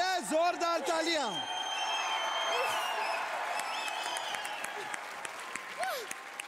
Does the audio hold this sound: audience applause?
yes